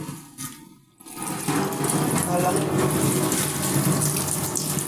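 Tap water runs steadily into a kitchen sink while flowers from a vase are rinsed, a continuous splashing hiss after a brief quieter moment at the start.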